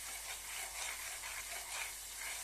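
Cashew and almond paste frying in hot oil gives a steady, soft sizzle with gentle pulsing, close and fairly quiet, with no talking.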